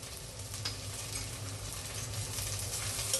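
A spoon stirs coriander and turmeric powder through a pan of mutton kurma, giving a soft continuous sizzle with light scraping, quiet and steady with no talk.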